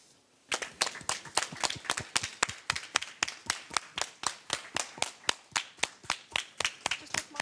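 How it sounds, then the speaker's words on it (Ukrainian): Rhythmic clapping greets returning Ukrainian soldiers at Boryspil airport: after a brief quiet start, a steady run of roughly twenty sharp, evenly spaced claps, close and loud, with no talk. "під бурхливі оплески їх зустрічають рідні, друзі, волонтери та журналісти"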